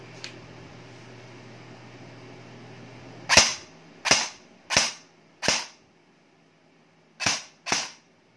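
A Taran Tactical M4 rifle, a double bell model, fires in semi-auto with six sharp separate reports: four in a steady rhythm, a pause, then two more close together. Each shot is loud and near over a faint steady hum.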